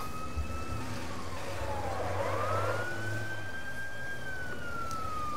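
A fire engine siren from the video game Watch Dogs Bad Blood wails with a rising and falling tone over a low engine rumble, steady and moderately loud throughout, with no talking.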